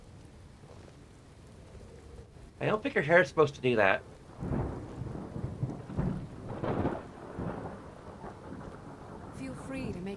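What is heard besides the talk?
rain and thunder, video game Skyrim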